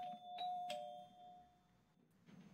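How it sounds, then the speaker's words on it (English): Doorbell in the 1990s video game The 11th Hour, a clear electronic chime striking two or three tones that ring out and fade, heard alone at a moderate level. "Ah, 90s doorbells."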